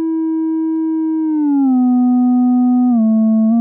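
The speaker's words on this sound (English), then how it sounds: "let's take a look at all the different waveforms we can make using the resonance as an oscillator" A pure, steady synth tone from a Blue Lantern Gleba VCF low-pass filter self-oscillating at high resonance hums loudly, stepping down in pitch twice as the filter sweeps, smooth and electronic with nothing else present.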